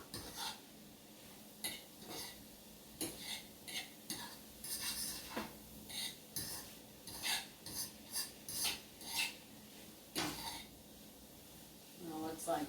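Riced cauliflower cooking in a pan on a dual stovetop burner for vegan sloppy joes, with repeated scraping and stirring strokes over a faint sizzle.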